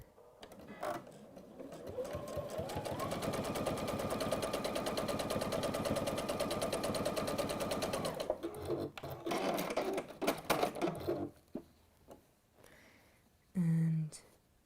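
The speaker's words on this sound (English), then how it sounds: "then just simply sew down both sides" A sewing machine stitches down trim on a textile project in one long, steady rapid run of stitching, then stops, leaving scattered clicks and handling sounds with a short voice near the end.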